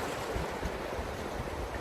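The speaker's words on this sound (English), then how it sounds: "I love being by the water and hearing the sound of the water" Water at Nolin Lake, Kentucky, washes and laps in a steady, close rush, blended with light wind noise. No one speaks.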